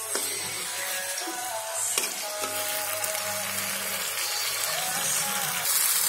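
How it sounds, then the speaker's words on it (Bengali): Hot water poured into sizzling masala for a catla fish curry, a continuous close sizzle and bubbling with clinks of utensils against the pan, heard alone without speech. "এবার আমি একটা বাটির মধ্যে 2 কাপ মতো জল ফুটিয়ে নিয়েছি, গরম জল দিয়ে দিচ্ছি জলটা।"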